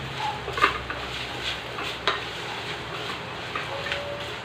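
Pancit canton noodles are stirred in a hot pan with oil and soy sauce, giving a soft continuous sizzle broken by scraping strokes and a few sharp utensil clinks against the pan.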